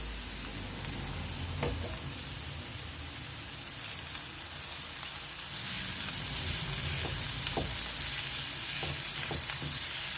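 Three garlic cloves frying in a pan, a steady close sizzle and crackle of hot oil that grows slightly louder toward the end, with a few faint stirring clicks.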